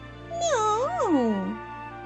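A single drawn-out meow, imitated by a human voice, rising and then sliding down in pitch, close and clear.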